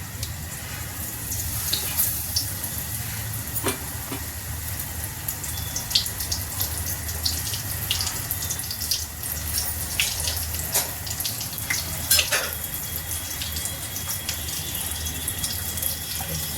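Bottle gourd fritters (lauki pakodas) fry in hot oil over a lowered gas flame, giving a steady, dense hiss with scattered sharp crackles and pops throughout, close by and with no talking.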